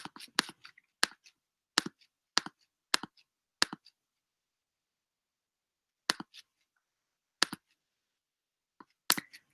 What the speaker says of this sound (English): I'm going to click here.